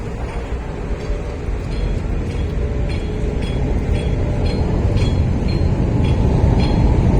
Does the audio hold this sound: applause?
no